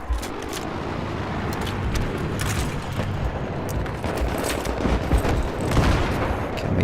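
Gunfire in the Battlefield 3 video game, a dense stretch of rapid shots, bursts and booms at moderate loudness, some closer cracks standing out against continuous battle noise.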